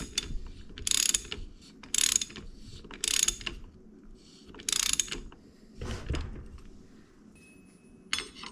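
A ratchet wrench tightens the clutch hub nut on a Honda CRF150R dirt bike during a Yoyodyne slipper clutch install, with four quick bursts of close, crisp ratcheting clicks at roughly one-second intervals, then softer metallic handling and a final short click.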